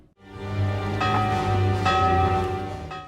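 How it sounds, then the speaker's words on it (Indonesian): A war bell rung from a tower gives one loud, resonant clang followed by further strikes, with a rich metallic ring that sustains and layers over itself. "dirinya naik menara membunyikan lonceng perang."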